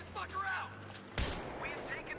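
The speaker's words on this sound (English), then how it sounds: "I'm hearing some gunfire" In Battlefield 3 multiplayer on the Azadi Palace map, a single faint gunshot cracks once midway through a quiet stretch, with a voice talking softly around it.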